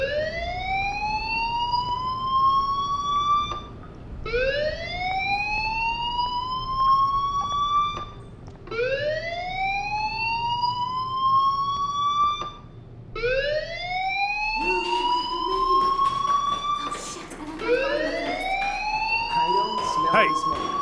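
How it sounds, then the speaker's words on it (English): Repeating rising electronic alarm tone of a fire alarm in the video game Life is Strange, sounding in regular whooping cycles about every four seconds, loud and steady, with busier background noise joining near the end. "Hey, do you hear that fire alarm?"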